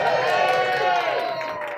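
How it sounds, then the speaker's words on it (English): A comedy club audience cheers and claps for a man at a stand-up show, a loud burst of whooping voices over clapping that fades slightly toward the end. "Let's give Chris a big round of applause."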